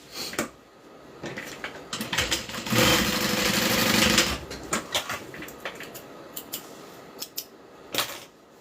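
A sewing machine top stitching a bag runs in several bursts, with a louder sustained whirring run in the middle, between clicks and handling noises.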